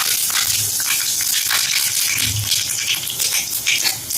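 Dried red chillies crackling in hot mustard oil in a kadai, a steady loud sizzling hiss with scattered pops and rattles throughout.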